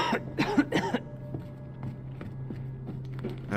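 A person coughs several times in a quick cluster near the start, followed by quieter shuffling and faint footstep-like knocks over a steady low hum, with no talking.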